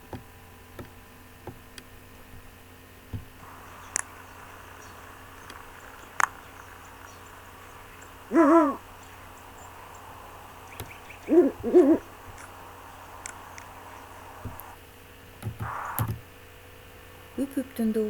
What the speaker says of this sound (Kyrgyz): Үкүнүн добушун угалык.